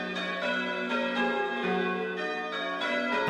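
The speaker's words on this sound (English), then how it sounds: "The bells being rung." Church bells of Hitcham, Suffolk, rung in change ringing, sound in a steady, overlapping peal, their rich metallic tones sounding continuously and fairly loud, with no voices.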